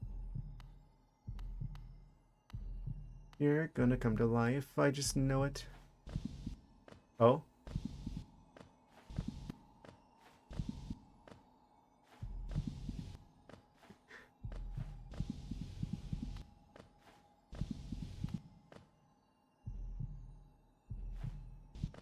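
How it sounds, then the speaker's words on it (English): A heartbeat sound effect from the Hollow Knight video game thumps in a slow, steady, deep rhythm, with a player speaking briefly partway through. "I don't know what it is about like heartbeat sound effects that's like freaky"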